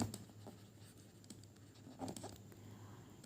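Marker or chalk scratching on a board during a math lesson, with short strokes and taps at close range and no talk.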